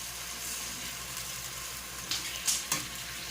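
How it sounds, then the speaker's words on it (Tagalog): Ground beef for lasagna fries in a pan with a soft, steady sizzle. Near the end come a few quiet scrapes and clinks as it is stirred. "So let's wait for our ground beef to cook so that it will turn into brown."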